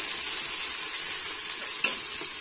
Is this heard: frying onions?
yes